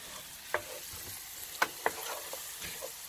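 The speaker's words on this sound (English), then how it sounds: "So I'm cooking these onions down until they're translucent." Onions frying down in a pan toward translucence for a Spanish-inspired tomato sauce, giving a low continuous sizzle broken by several sharp spoon scrapes and taps on the pan, close up with no voices.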